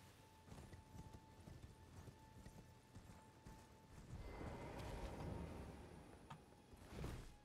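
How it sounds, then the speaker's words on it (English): Horse hooves clip-clop steadily in Elden Ring over a noisy, rumbling game soundscape, with a brief mechanical clatter near the end. "Forgot I was riding a horse there for a second."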